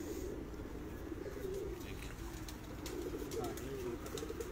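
Soft, low pigeon cooing repeats in a steady murmur, with light chirps and faint background activity throughout.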